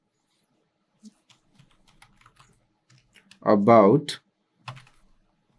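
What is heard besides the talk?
typing a prompt on a computer keyboard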